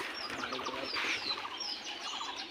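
Birds at a free-range pigeon farm call and chirp repeatedly in a steady, busy chorus at moderate loudness, with no speech.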